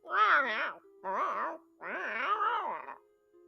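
A person leans toward a cat and imitates its meowing, three drawn-out, wavering vocal meows in quick succession, close and fairly loud, with short pauses between them.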